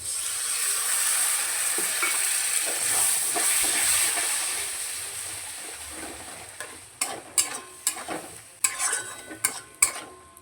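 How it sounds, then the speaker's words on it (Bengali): Spice paste frying in hot oil for a snail and potato kosha, with a steady close sizzle that fades, then a run of sharp clanking scrapes as a spatula stirs the pan, and no voices. "পেস্টটা দিয়ে মশলা খুব ভালো করে কষিয়ে নেব যতক্ষণ না মশলা থেকে তেল ছাড়ছে"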